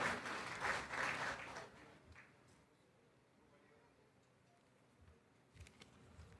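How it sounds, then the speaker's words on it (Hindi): An audience at a conference gathering claps to welcome a Sikh speaker to the stage, a moderately loud burst of applause that quickly fades into a quiet, sparse patter and room hush. "जोरदार तालियों से सरदार प्रीतम सिंह जी का आप स्वागत करें"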